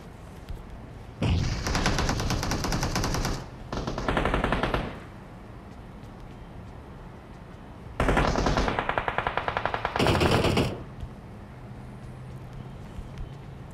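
Automatic gunfire in the PUBG video game, two long bursts of loud rapid shots each split by a short pause, separated by a quieter stretch, with no talking.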